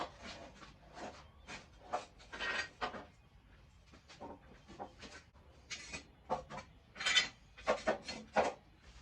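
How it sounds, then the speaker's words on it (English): Jack stands are set under the frame of a 1968 Firebird during subframe, engine and transmission installation, giving a run of close metallic scrapes, clunks and rattles in uneven bursts, with no talking. "let's get the jack stands here and get this thing put into place."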